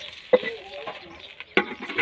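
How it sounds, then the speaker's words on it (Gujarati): A pot of water is poured into sizzling village-style rice tempering, giving two sharp hissing bursts over a soft background of crackling in a short moment. "વઘાર ચડી ગયો છે એટલે આપણે એક લોટો પાણી વેડીશું અંદર"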